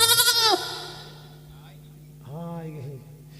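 A voice imitates a goat's bleat with a loud, wavering, drawn-out cry at the start, then carries on talking more softly over a steady low drone.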